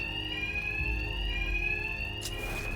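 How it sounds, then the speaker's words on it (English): A loud, continuous electronic alarm rings inside the Batman Arkham Knight video game, a steady piercing tone with a dense hum underneath and a brief burst of noise near the end. "My attacks will be covered by the noise of the alarm."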